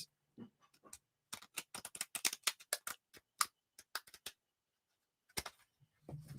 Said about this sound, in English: Let me see if can I still riffle shuffle?